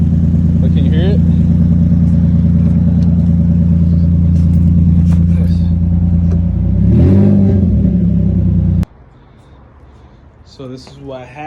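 A car engine running with only catalytic converters fitted and no exhaust pipes gives a loud, deep, raw rumble. It swells into a brief rev near the end before cutting off abruptly, with a person talking nearby.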